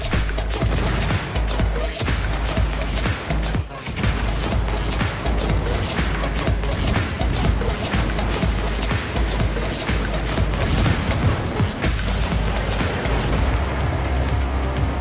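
Naval gunfire in the World of Warships video game, a loud, dense barrage of booming shots and crashing impacts that goes on without a break.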